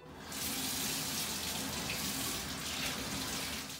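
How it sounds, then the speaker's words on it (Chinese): Tap water runs steadily over a piece of kombu kelp being rinsed at a kitchen sink, a loud, continuous close splashing hiss with no talk. "昆布买回来，我们稍微用水冲一下"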